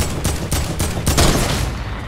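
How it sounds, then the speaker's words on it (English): Gunfire in the Fortnite video game comes in a quick burst of several loud, close shots over about two seconds, then fades off with no talking. "Just sniped from behind!"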